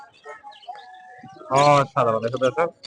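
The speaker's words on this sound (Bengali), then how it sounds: "আট মাস নিনজা রিং টিয়া পাখি শিখছে হালকা পাতলা মিঠু বলে" A ring-necked parakeet at a bird market gives short, scattered chirps and whistles, followed by a louder stretch of nearby human talk.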